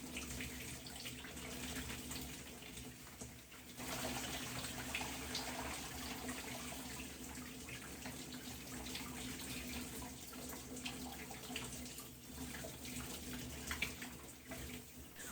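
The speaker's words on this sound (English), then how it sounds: "I'm going to finish rinsing my hair out completely" A steady, faint rush of running water from a tap pours continuously while hair is rinsed out on wash day, swelling slightly after the first few seconds and holding an even splash with no talking.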